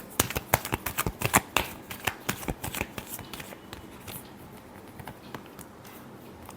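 A deck of tarot cards is shuffled by hand in quick, crisp riffling bursts, loud at first and then thinning into softer patters, close and with no talk over it.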